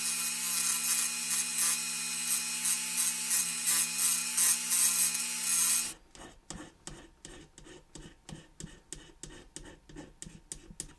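A rotary tool wheel grinds door handles off a 1:32 scale diecast Monte Carlo model car, first a steady high whine for about six seconds, then switching to a rhythmic series of short rasping strokes, close and fairly quiet.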